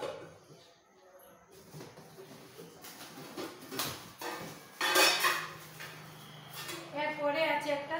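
A small kadai and a small tawa are handled, giving a few light metallic clinks and knocks of cookware, scattered and close, with faint rustling between them.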